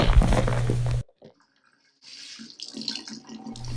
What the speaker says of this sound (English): I walk to the sink with the wet towel dripping on the floor all along the way, and then I wring out the water into the sink.